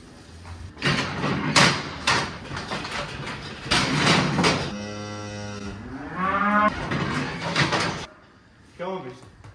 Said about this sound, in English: Flipping cow, man.